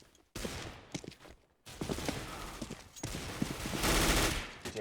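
Counter-Strike gunfire on the Overpass map during a competitive match, Desert Eagles and an MP9 in play, bursts of rapid shots and single cracks separated by short silences, with footsteps between them.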